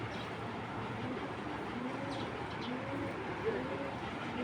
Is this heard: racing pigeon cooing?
yes